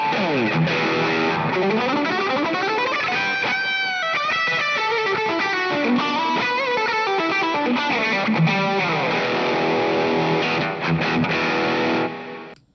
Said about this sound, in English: let's give it this massive reverb that I've just programmed in